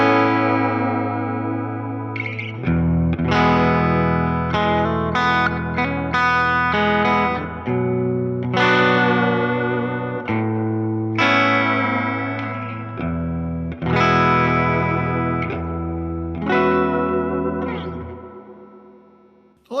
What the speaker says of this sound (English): Now here's the 65 Spring Reverb Convolution.